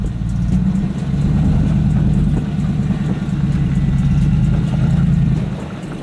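A Hummer H2 stuck off-road revs hard as its rear wheels spin and dig in, a loud, close, low engine drone that swells and holds for several seconds before easing off.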